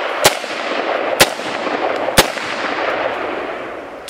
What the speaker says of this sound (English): now we're going to shoot the one that's about 10 yards deep